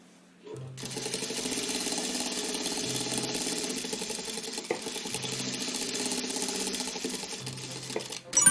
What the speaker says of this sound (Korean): 3면을 박음질합니다